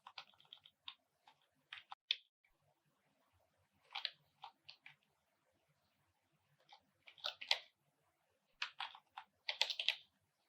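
Keys clack on a computer keyboard while code is written in an editor, in close, crisp bursts of quick clicks separated by short pauses, with no talking.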